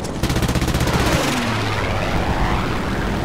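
Rapid machine gun bursts come from a plane in War Thunder, mixed with the steady roar of aircraft engines and wind. The fire is loud and dense, with fast repeated shots in the first second.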